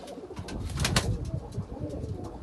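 Pigeons at a pigeon breeding club coo and flutter nearby in a busy, continuous stream of soft calls and rustling, with no talking.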